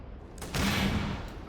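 A shotgun fires with explosive impacts in the Starfield video game: one booming, broad blast lands midway and rolls on as a dense rumble, close and loud, without speech.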